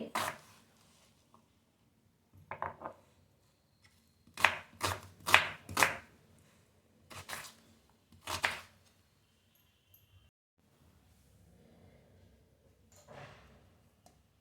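Onions chopped coarsely with a knife on a board, close sharp knife strikes in short irregular bursts, a quick run of about five chops in the middle and quieter gaps between, no talking.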